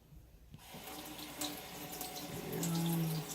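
Kitchen tap running as Brussels sprouts are rinsed under it, a steady close splashing rush of water that starts abruptly and grows fuller, with faint clinks; no talking.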